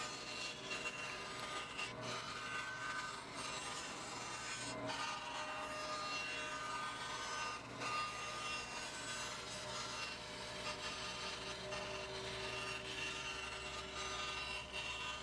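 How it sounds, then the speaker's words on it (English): A bandsaw cuts a wooden blank for a guitar top, producing a steady, dense rasping whine that runs unbroken and close throughout, with no talking. "I'm going to be using my bandsaw to cut out roughly the shape of the top"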